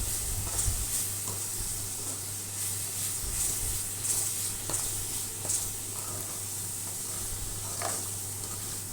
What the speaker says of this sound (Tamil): மஞ்சள்தூள் மிக்ஸ் ஆகிற அளவுக்கு நல்லா வதக்கி விட்டுக்கலாம்.